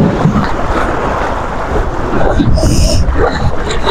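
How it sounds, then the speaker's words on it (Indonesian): Strong wind and waves hit a fishing boat at sea, producing a loud, steady roar of wind buffeting the microphone and broad water wash. A short higher-pitched splash or rush rises midway, and a voice is faintly present. "angin kencang, ombak."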